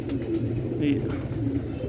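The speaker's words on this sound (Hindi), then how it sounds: "एक तरफ से हाथ में ज़रा टिक नहीं रहा कबूतर, थोड़ा हाथ में पकड़ेगा भी नहीं, इतने डिस्टर्ब हो रहा है।" A domestic pigeon held in the hand gives soft, low cooing against a steady background hum, fairly close and continuous over a couple of seconds.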